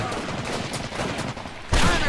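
Heavy gunfire in the Medal of Honor: Pacific Assault video game, a dense fusillade of rifle and machine-gun shots rolling on continuously, then swelling louder in a final close burst.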